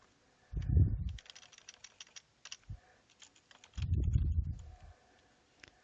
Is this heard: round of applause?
no